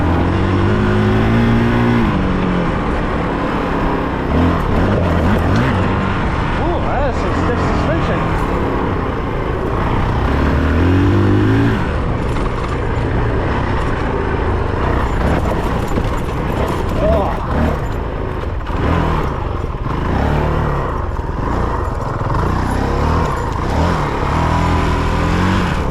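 Honda CRF450RL dirt bike ridden across freshly tilled dirt, its engine revving and dropping in loud continuous bursts with rising and falling pitch sweeps, wind and rider talk mixed in throughout.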